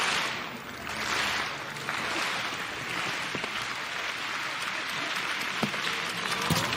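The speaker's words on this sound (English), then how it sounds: "So Asmani's got them going with his slow clap that will build up" At a para athletics world championships in Kobe, a stadium crowd slow-claps for a long jumper, a broad, steady wash of crowd noise with a few faint individual claps standing out.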